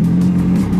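An Audi R8 engine holding a loud, steady, close rumbling drone with no break, lasting under a second.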